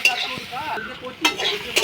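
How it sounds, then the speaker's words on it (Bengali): Taro stolons fry in a pan, sizzling as a spoon or spatula stirs them, with short scraping sweeps and sharp metallic clinks against the pan, heard close up. "লতিটা যে ভাজতে দিয়েছিলাম হালকা নেড়ে নেব"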